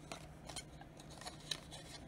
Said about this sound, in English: I'm moving the paper and letting the scissors close.